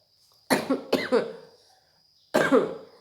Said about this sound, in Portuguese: eu vou ter um pouco de tosse durante o vídeo